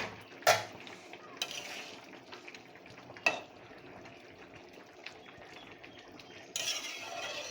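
Pieces of pre-fried fish go into a pan of simmering fish curry with fig, giving soft sizzling and bubbling broken by a few sharp utensil clinks against the pan, all fairly quiet.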